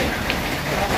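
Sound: rain falling

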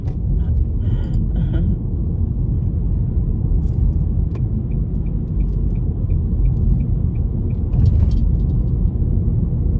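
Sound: car driving on a road in Norway

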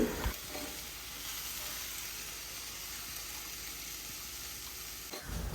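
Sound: stir-frying samosa filling with sautéed onions in a pan

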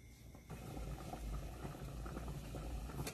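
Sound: green tomatoes and serrano chiles boiling for salsa

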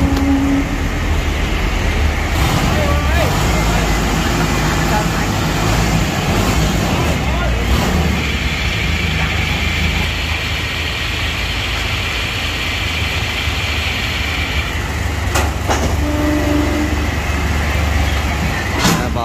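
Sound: tracked machine crawling up onto a truck

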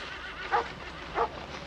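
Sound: sled dogs barking

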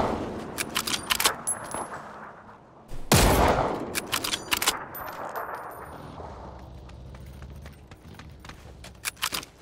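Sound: gunfire in the video game PUBG

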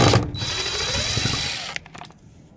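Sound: power drill removing screws from vintage trailer vent

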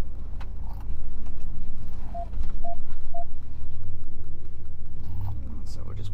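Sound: Dodge Ram 1500 truck driving off road in low range

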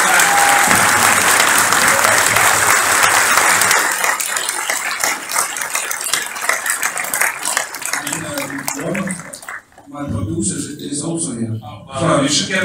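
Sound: audience applause for the film's crew member

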